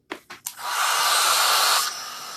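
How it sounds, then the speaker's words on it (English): A handheld blow dryer roars on, steady, close and loud, drying a decorative transfer on a home craft project, after a few short clicks and taps at the start. "And then I'm going to just hit it with the blow dryer."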